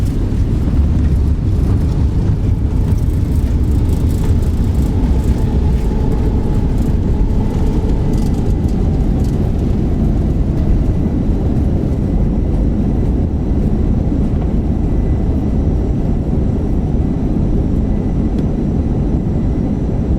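Airbus airliner rejecting its takeoff in Microsoft Flight Simulator, a loud, steady roar of jet engines and runway rumble that holds constant throughout, with no talking.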